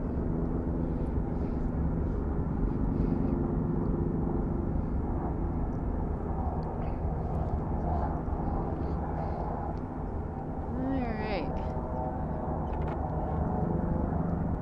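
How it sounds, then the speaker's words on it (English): Tour helicopters drone overhead at a distance, a steady low rotor rumble that continues throughout with faint brief sounds on top. "can hear the helicopters doing their tours up there."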